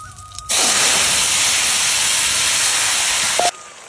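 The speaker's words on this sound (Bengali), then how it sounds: "আমি তরকারিটা ফোড়ন দিয়ে নেবো। একটা শুকনো লঙ্কা দিয়ে দেবো, একটা জিরে দিয়ে দেবো, কালো জিরে দিয়ে দেবো অল্প করে।" Dried red chilli, cumin and nigella seeds hit hot oil with a sudden loud, close hiss that holds steady for about three seconds, then cuts off abruptly.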